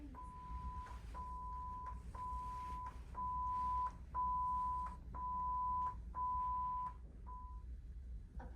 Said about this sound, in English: Upon hearing the general emergency alarm, passengers must proceed to their muster station